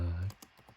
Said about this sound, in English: I'm gonna be typing a little slow.